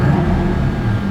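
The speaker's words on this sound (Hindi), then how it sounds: "एग्जॉस्ट की आवाज़ देखते हैं अगर अंदर तक आती है हमारे पास" Deep, steady engine and exhaust rumble of an Aston Martin DBX heard from inside the cabin, a continuous low drone with no voices.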